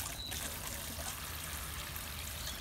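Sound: water being poured onto a banana plant

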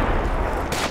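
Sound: anti-tank weapon blast in video game Project Reality

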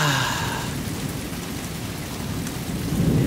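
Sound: rain and thunder

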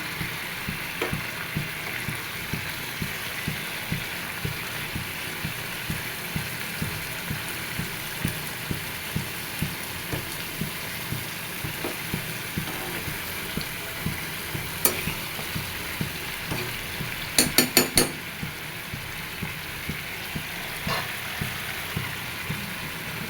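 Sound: fried fish added to cooking pan

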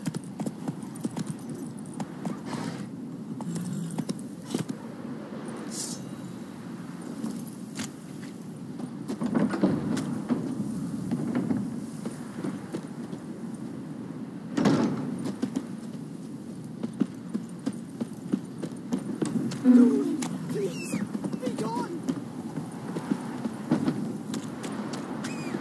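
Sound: horse Roach hooves in The Witcher 3 video game

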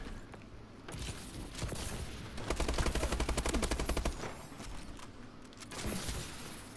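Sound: gunfire in a video game

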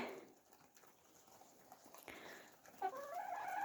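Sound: chickens and roosters

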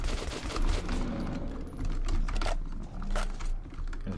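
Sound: gunfire from video game Metro 2033 Redux

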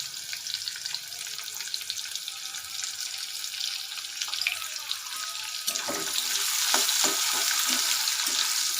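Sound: chopped onion frying in mustard oil in a wok

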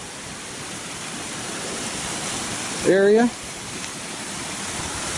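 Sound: waterfall flowing on a property's grounds

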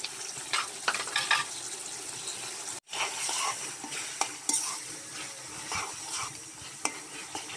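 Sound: frying and stirring ginger, cumin and chili spice paste

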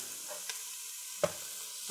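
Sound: onions and potatoes added to the Ninja Foodi pot, sizzling

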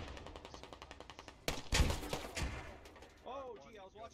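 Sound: grenade launcher firing in video game Squad

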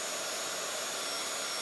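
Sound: heating tool blowing hot air to dry craft work

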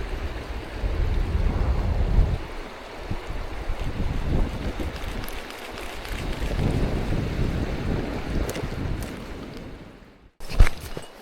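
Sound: rain falling while fishing for rainbow trout at a stream

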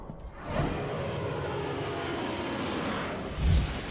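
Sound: airplane taking off, animated drama effect

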